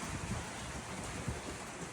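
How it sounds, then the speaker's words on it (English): Heavy rain pours steadily outdoors, a dense, even hiss with low rumbling texture, faint and continuous through a short stretch. "it's raining pretty hard over here."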